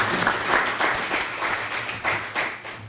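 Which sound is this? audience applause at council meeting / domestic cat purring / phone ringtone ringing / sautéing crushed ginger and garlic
audience applause at council meeting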